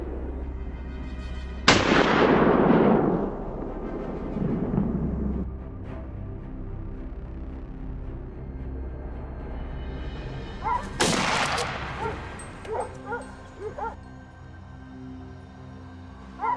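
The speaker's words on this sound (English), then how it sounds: "A shot rings out, and the boar drops instantly." Rifle shots ring out during a wild boar hunt on a farm on a mountainside: one loud, close blast with a long rolling echo, followed later by a second sharp report and a few scattered, fainter bangs.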